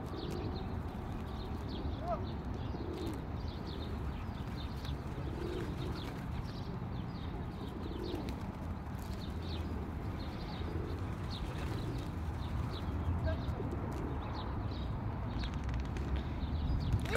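Pigeons coo and flutter nearby as a child feeds them bread outdoors, with steady crowd-like background noise and soft shuffling throughout, the birds continuous and close rather than in isolated calls.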